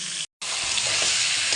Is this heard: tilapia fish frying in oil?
yes